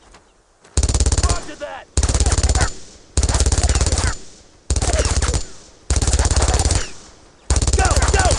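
Sustained bursts of machine gun fire from World War II squad combat in Brothers in Arms: Road to Hill 30, six loud, long volleys separated by short gaps, with shouted soldier voices in between.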